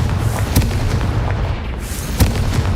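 Fiery Confringo blasting spell in the Hogwarts Legacy video game, a dense low rumble of booming impacts with a couple of sharper bursts standing out over a continuous loud roar of game effects.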